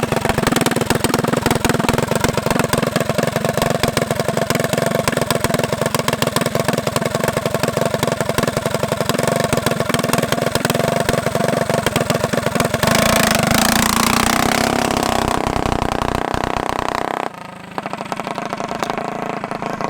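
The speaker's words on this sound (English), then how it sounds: "Yeah, the idle's really high." A race dirt bike engine idles high and steady, a loud continuous drone that holds for most of the stretch before its pitch shifts and the sound drops near the end.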